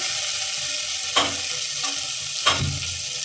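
Whole spices and turmeric powder fry in oil for beef bhuna, sizzling steadily while a spoon scrapes the pan in three distinct strokes.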